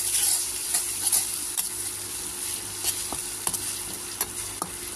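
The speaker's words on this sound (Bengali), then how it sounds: "এখন পেঁয়াজগুলো নরম হয়ে আসছে, একটু রসুন বাটা দিয়ে দিই।" Garlic paste frying with softened onions in a pan, a steady hiss of sizzling oil broken by repeated sharp scrapes and taps of a spoon stirring, close and alone without speech.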